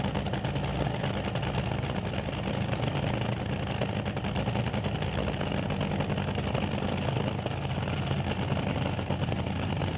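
A Top Fuel dragster engine at a drag racing event roars steadily and loudly for the whole stretch, a constant dense mechanical rumble without pauses or talk.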